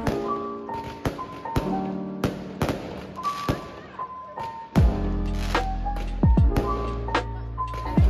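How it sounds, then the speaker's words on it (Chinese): Fireworks and firecrackers go off before a Fallas figure is burned in Valencia: sharp repeated bangs and pops in irregular bursts, then a dense rapid crackle of strung firecrackers building into a sustained roar. "点火前会先放烟火，工作人员会在法雅人偶上缠绕鞭炮"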